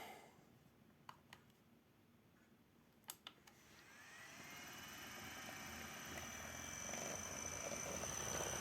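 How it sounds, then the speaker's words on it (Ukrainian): An electric hub motor wheel on an electric moped whirs up from a low hum into a steady, rising whine that builds and holds, with a couple of faint clicks before it starts. "Ось, наш мотор колесо поїхало."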